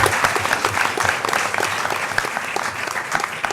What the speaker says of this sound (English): So round of applause to you, ladies.